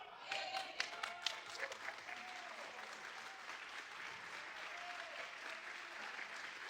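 A church congregation applauds during a sermon: sustained, dense clapping from a sizeable crowd, slightly sharper at the start and then holding steady for several seconds.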